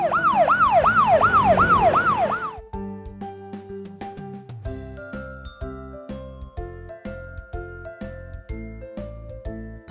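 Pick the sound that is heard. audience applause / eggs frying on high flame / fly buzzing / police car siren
police car siren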